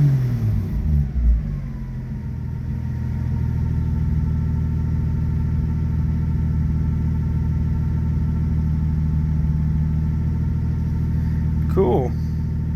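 A 1990s Toyota Supra project car's engine runs steadily after being started, a loud continuous low rumble with a brief rev near the start and a short higher whine toward the end.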